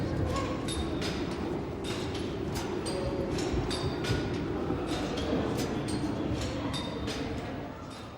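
A steam-era locomotive with great pulling power, retired in 1960 after nearly two million miles, gives a continuous loud rumble. Faint regular clicks run through the whole stretch, with no speech.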